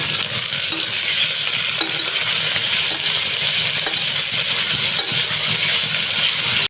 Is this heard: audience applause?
no